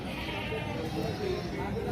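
Sheep bleat at a busy village livestock market, a faint wavering call buried in dense crowd chatter and general market din.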